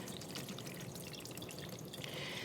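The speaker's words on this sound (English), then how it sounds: "I am going to do a quick rinse on this." Tap water runs in a soft, steady hiss as canned fruit is rinsed to wash off syrup, quiet and continuous with no voices.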